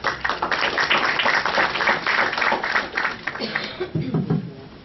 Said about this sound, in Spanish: Recibámoslo con un fuerte voto de aplauso.